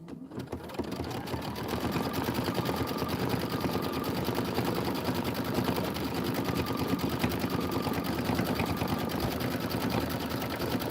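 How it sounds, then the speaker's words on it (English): A sewing machine hums along without stopping while doing decorative stitching on autumn-themed quilt borders, its fast needle chatter holding steady and fairly close for the whole stretch. "that's going to be the decorative stitching"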